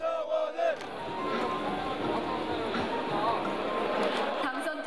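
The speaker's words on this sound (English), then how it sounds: "There was a lot of cheering for the candidates." Crowd at a party convention cheering for newly selected leadership candidates, a loud, dense, continuous roar of many voices filling a large hall after a few isolated shouts at the start.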